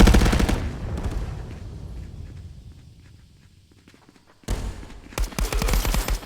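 Rapid automatic gunfire in the VR shooter Contractors VR bursts loudly at the start, fades into a quiet lull, then erupts again in dense close volleys.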